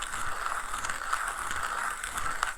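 An OE Lido OG manual coffee grinder being cranked very slowly for espresso gives a soft, steady ratcheting grind with faint regular clicks, quiet and close with no voices.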